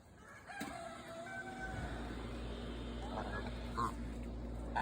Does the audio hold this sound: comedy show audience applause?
no